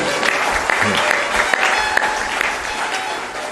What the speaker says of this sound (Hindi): ताली बजाइए इनके अभिनंदन में।